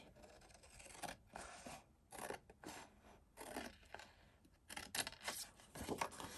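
Scissors cutting through stamped paper card for a handmade card, a series of faint, close snipping and rasping strokes in irregular bursts, quiet with no talking.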